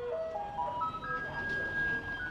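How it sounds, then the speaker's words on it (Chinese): A garbage truck plays its bright, electronic musical jingle, a rising sequence of clear tones heard faintly from a distance over low street noise. "垃圾车的音乐听到腻"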